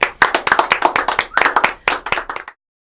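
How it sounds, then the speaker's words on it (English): An audience applauds to welcome performers onto a stage show: a loud, dense burst of hand clapping that lasts about two and a half seconds, then stops abruptly into silence. "everybody can get a round of applause here"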